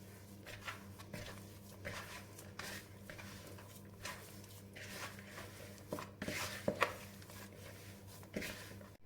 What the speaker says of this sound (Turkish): hamurumu yoğuruyorum